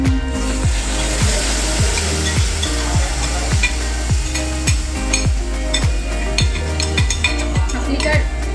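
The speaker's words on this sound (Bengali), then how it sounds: "এবার দিয়ে দিচ্ছি দই।" Sour yogurt (curd) sizzles loudly in a hot pan while a spoon stirs it in quick, regular scraping strokes about twice a second, close up, with a constant frying hiss underneath and no talking.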